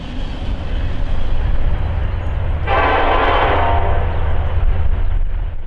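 A big freight train rumbles past close by with a continuous low roar of wheels and cars, and partway through its horn sounds in one long, loud blast that holds for several seconds.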